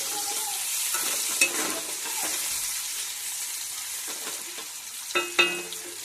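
Thick-cut bitter gourd pieces fry in a pan with a continuous close sizzle, broken by a few scraping stirs and spatula knocks.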